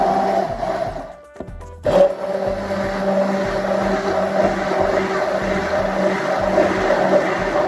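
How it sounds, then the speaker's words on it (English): An immersion blender whirs steadily through a freeze-dried fruit drink, a continuous close motor hum with a brief dip and jolt early on before settling into an even buzz. "I'm just going to use my immersion blender."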